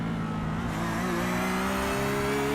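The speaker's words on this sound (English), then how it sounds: "You can hear Pilata jumping on the throttle to try to get the car to rotate" Race car engine in the iRacing sim at Indianapolis revving hard on throttle, a steady loud droning tone whose pitch climbs gradually while it runs continuously.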